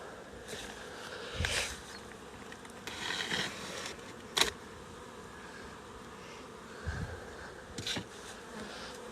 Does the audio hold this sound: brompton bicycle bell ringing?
no